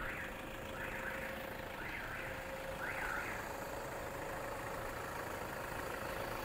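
A used SUV's engine idles steadily at a low, even hum with a constant drone, faint and unbroken throughout.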